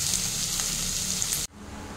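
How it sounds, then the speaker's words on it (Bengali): Chopped garlic frying in oil in a pan for toor dal, giving a steady close hiss that drops off abruptly near the end. "রসুনটাও আমি দিয়ে দিলাম। এবার এটা ভালো করে ফ্রাই করে নেব।"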